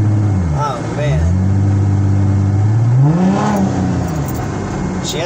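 A Ford Mustang being driven, its engine rising and falling in pitch through several gear changes as it accelerates. The engine is loud and close, with a voice talking over it.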